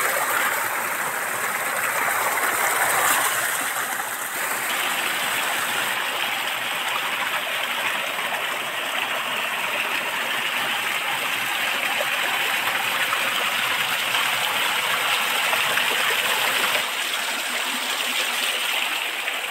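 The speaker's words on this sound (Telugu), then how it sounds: "చూసారా వాటర్ అయితే భయంకరంగా పడుతుంది." Water rushes hard through a stream in a dense forest at night, a loud, continuous broadband roar with steady splashing that never lets up.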